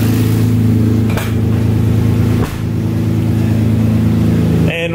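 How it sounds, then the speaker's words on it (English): The Nissan GTR idles in a garage with a loud, steady low engine drone. A couple of brief thumps break in, and it ends with a short clatter. "we're gonna leave the GTR running, close the hood, let it build up some heat"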